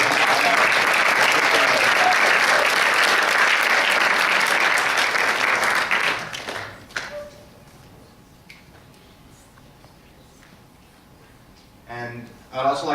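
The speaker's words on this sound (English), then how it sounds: "Please give them a round of applause." An audience at a teen town hall closing presentation at city hall claps in a loud, sustained round of applause for about six seconds, then fades out, leaving a quiet room before a voice starts speaking.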